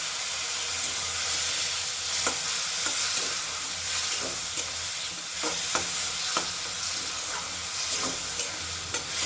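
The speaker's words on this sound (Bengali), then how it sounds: "ভালো করে একসাথে সব কিছু মিশিয়ে নেব। খুব সামান্য পরিমাণ একটু জল দিয়ে দেব, যাতে মশলাটা পুড়ে না যায়।" Prawn curry spices sizzle steadily in a pan with a splash of water as they are stirred and mixed, a continuous close fry broken by repeated soft scraping strokes of the spoon.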